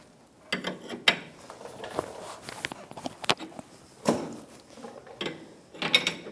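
Wrench ratcheting on the tie rod nut of a 2013-2018 Toyota RAV4, a run of uneven metallic clicks and clanks, close and fairly loud, with no talk.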